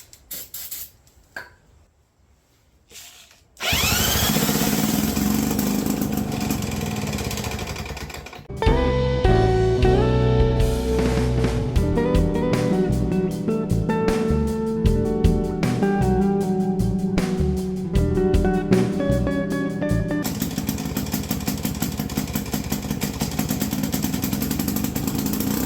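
A pre-1958 two-stroke lawn mower engine being started, with quiet clanks before it catches into a loud, rapid, ragged running putter that holds steadily and close for the rest of the stretch.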